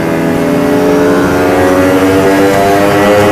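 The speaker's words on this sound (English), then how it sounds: "Give it a bit of throttle, Srecky, see what it does" A car engine revs under throttle in fourth gear within its power band, producing a loud, steady, rising harmonic drone that holds throughout without any voices.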